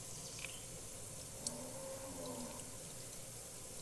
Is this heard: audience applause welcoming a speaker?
no